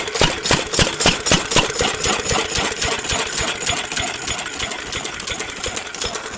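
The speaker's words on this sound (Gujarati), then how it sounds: "આ મશીન છે ચાલુ છે" A diesel engine machine running nearby, a loud, steady rapid thumping chug with regular pulsing knocks and a rattling mechanical clatter, continuous and alone.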